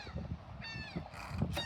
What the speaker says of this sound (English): Laughing gulls.